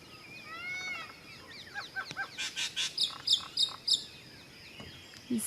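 A common myna in India gives a string of varied mimicking calls: squeaky whistles, then a rhythmic series of about eight sharp, chattering notes. The calls are fairly faint and distant over quiet outdoor background noise.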